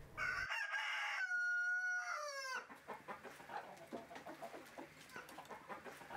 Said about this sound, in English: She was running around the chicken coop trying to get an egg out of the hens.